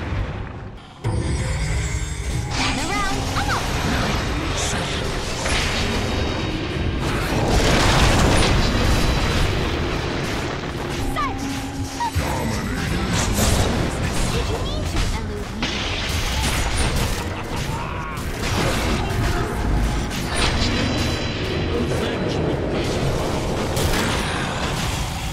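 Repeated heavy explosions and crashing booms as the ancient comes under attack in a Dota 2 match, dense layered blasts and clatter continuing loudly throughout.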